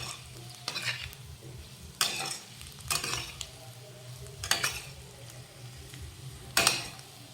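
Potatoes are stirred with salt in a frying pan over a low sizzle, the spoon scraping the pan in a handful of separate strokes spaced about a second apart, close by.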